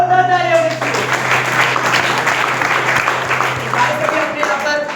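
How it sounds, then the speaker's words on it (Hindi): Audience applause and clapping for a woman at a company event, a steady wash of many hands throughout, loud and continuous with faint background voices and a low hum. "एक बार हमारे मैडम के लिए जोरदार तालियां होनी चाहिए।"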